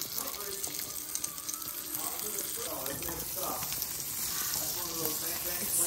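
Butter sizzling and crackling steadily in a pan while a quesadilla cooks, a soft continuous hiss heard close up with faint voices in the background.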